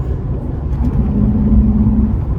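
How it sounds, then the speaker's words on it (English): A Toyota Tacoma pickup with upgraded intake drones steadily while pulling onto the road, a low rumbling engine hum with a faint rising tone, heard from inside the cab with no talk. "There's definitely a lot more intake noise."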